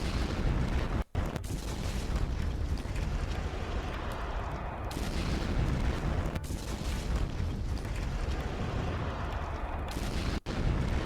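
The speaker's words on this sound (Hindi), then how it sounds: "बंदर अब्बास के पास में केशम द्वीप है, वहां पर भी विस्फोट की आवाज़ें सुनाई दी जा रही हैं" Loud, continuous rumbling roar of blasts from military strikes near Bandar Abbas and Qeshm Island, Iran, dense and broadband for the whole span with a couple of abrupt cuts, no voices.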